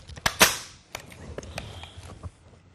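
The feed cover of a C9 light machine gun snaps shut with a sharp metallic clack, followed by a few smaller clicks and rattles of handling, close and loud with no voices.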